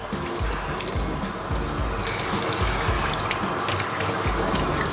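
A handheld shower head sprays a steady, even hiss of water over a dog during a grooming bath, with faint dripping and a low rumble underneath.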